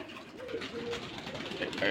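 A Rajshahi Giribaz pigeon at a loft gives soft, low, throaty coos in a short rolling run, close by and fairly quiet, with a faint voice in the background.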